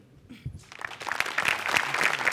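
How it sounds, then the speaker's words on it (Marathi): A stage comedy show audience bursts into applause, starting with a few scattered claps and swelling into steady, dense clapping. "यासाठी जोरदार टाळ्या"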